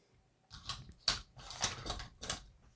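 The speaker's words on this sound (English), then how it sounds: "Barrel's in, and I just let the bolt go home" Metallic clicks and scraping clacks as the barrel of a Beretta ARX100 rifle slides into the receiver and locks, then the bolt snaps forward, a few close, crisp mechanical knocks over about two seconds.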